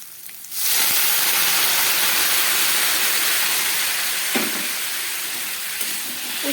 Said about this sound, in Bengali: উষ্ণ গরম জল দিয়ে দিলাম।